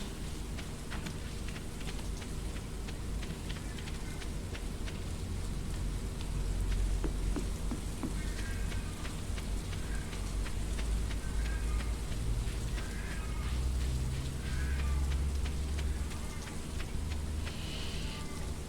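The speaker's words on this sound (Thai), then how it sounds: "ฝนตกขนาดนี้จะไปไหนคะ" Steady rain falls in the Stardew Valley video game, a continuous even patter with soft low rumbling beneath and a few faint game chimes.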